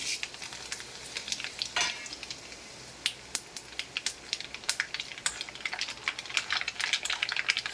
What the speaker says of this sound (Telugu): ఇప్పుడు ఈ ఇంగ్రీడియంట్స్ అన్నీ కూడా ఈ ఆవాలు, ఎండుమిరపకాయలు దీంట్లో వేసుకుంటున్నాను.